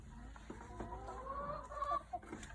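Hens clucking softly inside a backyard chicken coop, a few scattered low calls and murmurs that rise into a short run of clucks, faint and somewhat distant.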